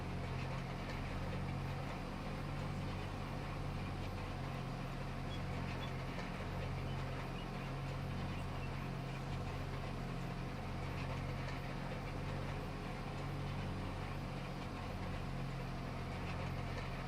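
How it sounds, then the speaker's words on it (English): A tractor engine idles in the video game Farming Simulator 25, a steady, low, rumbling drone that holds constant and fairly quiet throughout with no other sounds on top. "I do like the sound of this tractor, it sounds good."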